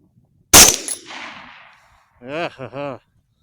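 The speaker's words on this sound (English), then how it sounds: "I put this finishing round into this last hog" One sharp, loud crack from a 6.8 rifle finishing off a hog, ringing out and decaying over about a second, followed by a short burst of human voice.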